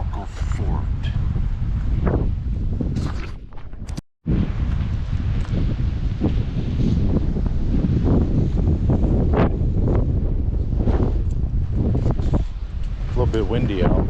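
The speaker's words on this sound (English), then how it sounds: "A little bit windy out." Strong wind gusting outdoors at a historic fort in Utah, roaring and buffeting the microphone almost constantly with one brief drop, while people talk underneath.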